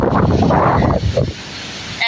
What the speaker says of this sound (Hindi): हवा देख सकते हो कितनी तेज चल रही है गांव में